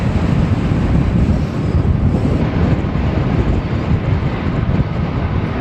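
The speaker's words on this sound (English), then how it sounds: "More wind here" Strong wind buffets the microphone on a road bike ride in Spain, a loud, constant roaring rumble with no letup and no voices.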